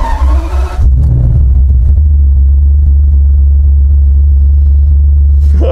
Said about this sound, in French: Juste le bruit du démarreur, il est incroyable.